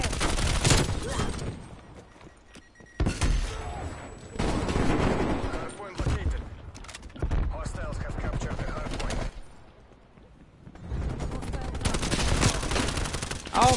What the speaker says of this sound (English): You just shooting at that point.